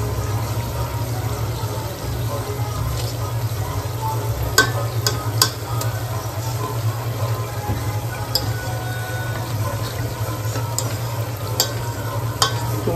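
Green peas fry in a pan with Amul butter while being stirred, giving a steady close sizzle broken by occasional sharp scrapes and clicks of the spoon against the pan, with no talking.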